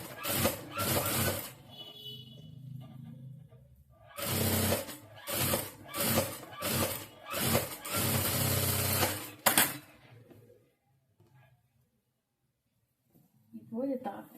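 A sewing machine stitches a blouse lining in several loud, close bursts of whirring separated by brief gaps, then falls quiet, with a voice talking between the runs.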